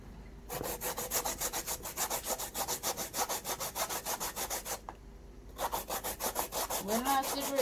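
Sweet potato grated by hand, a steady run of quick rasping strokes close up, pausing briefly about two-thirds through before the rhythmic scraping resumes.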